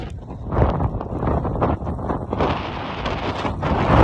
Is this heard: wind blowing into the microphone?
yes